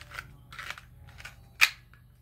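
Reload of the Renetti pistol in Modern Warfare: a quick run of crisp mechanical clicks ending in a sharp, louder metallic snap as the slide racks, close and alone.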